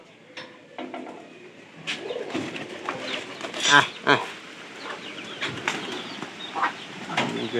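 Domestic pigeons coo and flutter nearby in a steady low murmur, with scattered clicks and bursts of activity, while someone talks and makes short vocal sounds over them.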